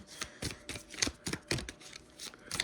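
Tarot cards being shuffled by hand, a rapid series of soft papery riffles and slaps in an irregular rhythm, close but fairly quiet.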